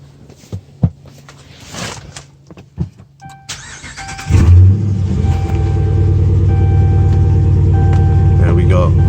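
A 2013 Dodge Durango R/T engine cranks and catches after a few clicks and thumps, then settles into a loud, steady idle rumble that runs to the end.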